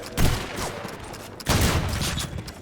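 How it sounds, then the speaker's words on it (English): Bursts of pistol and shotgun fire in a video game, two dense volleys of rapid shots with a short lull between them, loud and close. "Rampage still trying to get another one with a pistol, with a shotgun"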